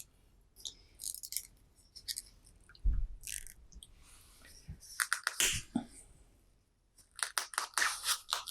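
Scissors cut through leather for a tunic in short bursts of snipping and crunching, separated by quiet gaps, with a dull knock partway through and a quicker run of snips at the end.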